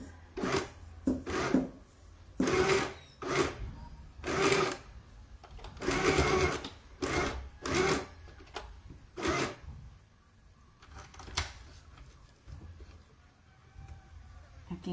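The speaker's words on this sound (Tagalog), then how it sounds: "Aking portable sewing machine." A small portable sewing machine stitches a bib in repeated short bursts of rapid mechanical whirring, separated by brief pauses and fading to quieter handling noises toward the end.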